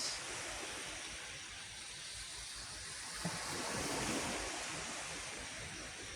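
Steady, rushing surf washes over a beach with constant wind noise on the microphone, the waves swelling slightly louder midway through.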